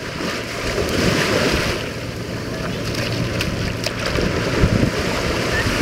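Ocean waves wash and break along a Florida beach in a continuous hiss and rush, with wind blowing across the microphone.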